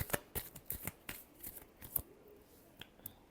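Tarot cards are shuffled by hand in a final shuffle, a quick series of crisp riffling flicks and snaps, close and fairly quiet.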